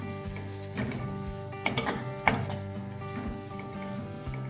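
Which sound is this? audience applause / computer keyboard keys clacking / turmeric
turmeric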